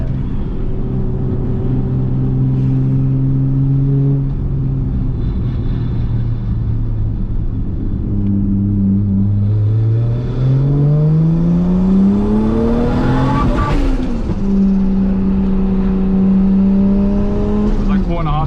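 A rebuilt Toyota Supra GT300 race car drives with its engine droning loudly inside the cabin, the pitch rising and falling through revs and gear changes, under continuous talk.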